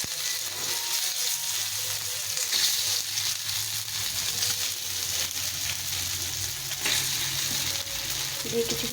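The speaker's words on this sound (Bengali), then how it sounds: "একটু গরম হয়ে গেছে, এখন এই বলগুলো আস্তে আস্তে ছেড়ে দেবো।" Dough balls fry in hot oil, a steady, close, dense sizzle that runs unbroken throughout with light bubbling texture.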